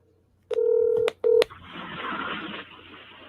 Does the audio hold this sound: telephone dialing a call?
yes